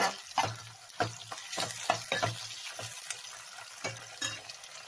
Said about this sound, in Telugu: కొంచెం కరివేపాకు ఇవన్నీ బాగా ఫ్రై అవ్వాలి